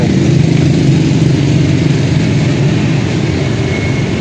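An angle grinder cutting into a motorcycle center stand, a steady loud whining roar close by that holds without pause throughout.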